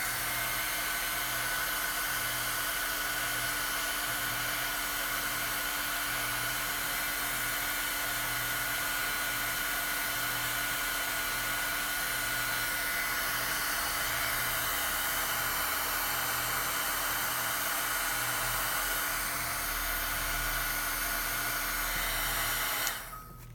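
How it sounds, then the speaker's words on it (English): A heat embossing tool blows hot air steadily onto a Valentine's card, a constant close, loud whooshing drone with no talk, cutting off abruptly at the very end. "Let me use the heating tool to emboss this."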